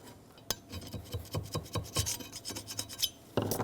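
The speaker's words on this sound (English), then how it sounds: "I'm just going to scrape the gasket off" Hand scraping of an old gasket off a Chevrolet Silverado 2500 HD rear axle surface, a close series of rough rasping strokes in irregular rhythm, each one a short gritty scrape, with no talking.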